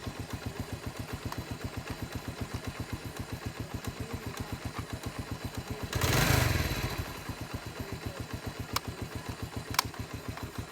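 A scooter engine runs steadily with a regular low putter throughout, swelling briefly in a louder burst of revving or noise midway before settling back to the even idle, with no talk.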